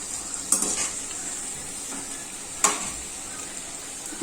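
Ajwain leaf bhaji frying in oil on a lowered gas flame, a steady close sizzle with two sharp clatters of a spoon or pan over it.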